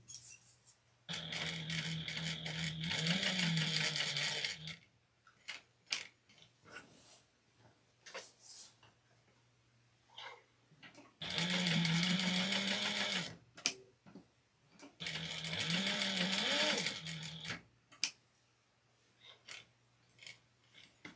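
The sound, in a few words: sewing machine back stitching apron seam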